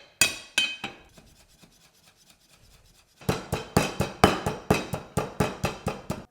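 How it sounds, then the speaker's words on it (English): Lemongrass and garlic are pounded in a pestle and mortar with sharp rhythmic thuds, a few strikes, a quiet pause, then a steady run of loud close knocks, with no talk. "going to pop that straight into the pestle and mortar. You don't have to, but I quite like to sort of grind the lemongrass so it's not too fibrous."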